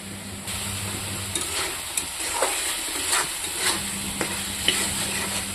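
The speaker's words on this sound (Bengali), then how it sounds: "এটা একটু ভাজা ভাজা করব" Food fries in a pan with a constant close sizzle and hiss, broken by repeated scraping, clinking strokes of a spoon stirring at an irregular pace.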